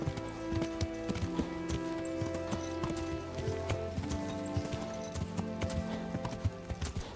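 Rhythmic horse hooves clip-clop steadily in a medieval role-playing game, moderately loud over a layered in-game ambience with occasional faint whinny-like tones.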